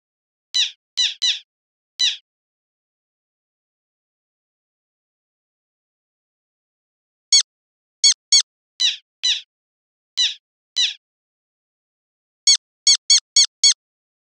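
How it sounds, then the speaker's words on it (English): Sharp, squeaky calls of a Black Tern come in short bursts: a quick cluster near the start, then scattered pairs, then a rapid run of five near the end, clear and close against silence. "in this case where it's a bird sound, and the bird sound starts at 1K"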